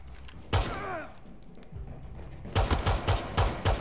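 SMG-12 submachine gun fire in Rainbow Six Siege comes in sharp bursts, with one early shot and a rapid rattling run near the end, plus quieter game sounds in between.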